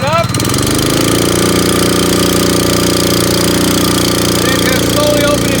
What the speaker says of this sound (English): get this motor up and running for us here